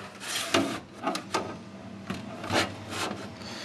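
A screwdriver turning a screw into a computer case during PC assembly gives close rasping, rubbing scrapes in short uneven bursts, with no talking.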